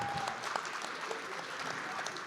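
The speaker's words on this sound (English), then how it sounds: "let's clap it up for our panelists one last time" Audience applause for panelists at a democracy summit, a steady, even wash of many hands clapping filling the room, fairly faint and distant throughout with no voices standing out.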